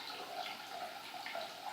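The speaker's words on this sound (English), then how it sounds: "So now you're going to fill up your measuring cup here." Tap water runs into a measuring cup in a kitchen, a soft, steady splashing stream heard faintly and alone for a couple of seconds.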